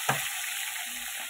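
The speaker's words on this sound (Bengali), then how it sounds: "মোটা মোটা করে বেগুন কেটে নিয়েছি, এটাকে নুন হলুদ দিয়ে ভালো করে একটু ভেজে নেবো আগে।" Thick eggplant slices frying in oil with salt and turmeric, a steady close sizzle throughout after a brief sharp sound at the start, no talk.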